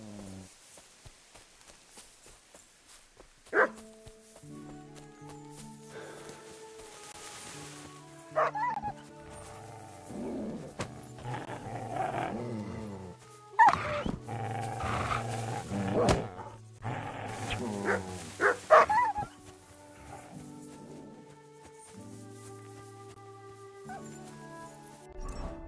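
A dog in the video game Kingdom Come Deliverance barks and whimpers in a long stretch, with tonal whines and sharp yelps rising and falling over game music, loud and close.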